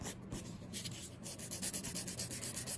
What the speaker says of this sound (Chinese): 超过本甲的胶都给它磨掉